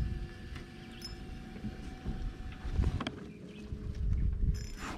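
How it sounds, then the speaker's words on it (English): Small boat motor droning steadily across open water on a bass fishing outing, moderately distant with wind buffeting the microphone and no voices. "There's a motor."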